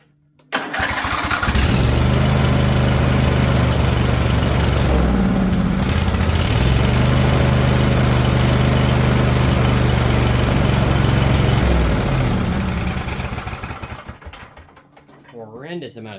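An old Husqvarna engine sputters to life and runs rough on its carburetor, a loud, steady mechanical drone with uneven firing that fades and falters near the end.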